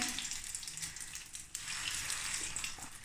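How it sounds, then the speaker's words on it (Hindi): Bread kababs frying in a small amount of hot oil over low heat, a continuous bright sizzle with fine popping and bubbling, steady and close, no talking. "चलिए अब हम इनको फ्राई करते हैं। ऑयल गर्म हो चुका है।"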